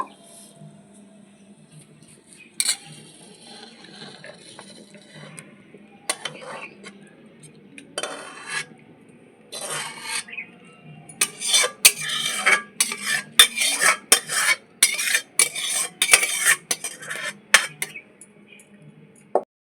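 Finished potol chingri, a Bengali pointed gourd and prawn curry, is scraped out of a metal cooking pan: quiet stirring at first, then a rapid run of loud, close spoon-on-pan clinks and scrapes in the later half.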